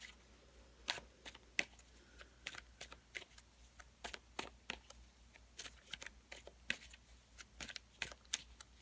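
Tarot cards are shuffled by hand in a quiet room, giving faint, irregular papery flicks and soft snaps that keep going at a steady, uneven pace.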